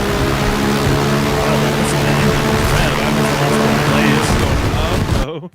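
In a helicopter video game, an engine drones loud and steady after the rotor blades are lost, a harsh continuous whine that cuts off abruptly at the end.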